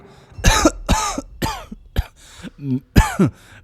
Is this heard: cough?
yes